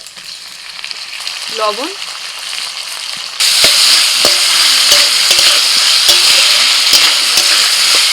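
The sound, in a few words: frying potato, onion, ginger garlic paste and tomato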